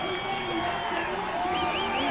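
A NASCAR race crowd roars steadily throughout, a dense wash of cheering and clapping from a large grandstand during a pole-position qualifying lap, with commentators talking over the noise.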